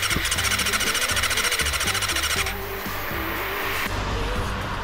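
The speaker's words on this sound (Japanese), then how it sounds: "ここでバリオスさんがエンジンかからないと、" Up close, a Kawasaki Balius motorcycle's starter cranks with a rhythmic churning whir, then the engine catches and settles into a rough, steady idle.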